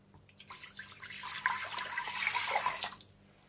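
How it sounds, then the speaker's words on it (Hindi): A short, steady stream of water pours into a metal pressure cooker, building to a bright splashing rush for a couple of seconds before stopping. "सबसे पहले आप प्रेशर कुकर में 3 कप पानी डाल लें।"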